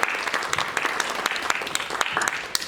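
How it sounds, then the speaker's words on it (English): Audience clapping after a student society candidate Q&A answer, a lively patter of individual hand claps with sharp peaks, moderately loud and fairly short. "A round of applause for Alexi."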